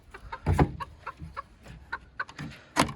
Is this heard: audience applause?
no